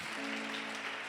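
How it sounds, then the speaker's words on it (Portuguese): A church congregation applauds in a steady wash of clapping throughout, with a sustained tone underneath and no distinct voices. "Quem concorda, aplauda ao Senhor Jesus por isso"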